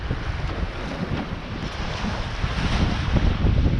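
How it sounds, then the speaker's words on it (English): Wind in roughly 12 knots blows hard across the microphone while a dinghy sails under spinnaker, a constant close roar with the wash of waves beneath and no talk. "The wind's pumped in a bit more, it's probably 12 knots now."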